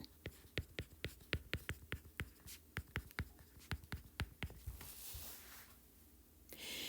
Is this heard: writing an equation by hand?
yes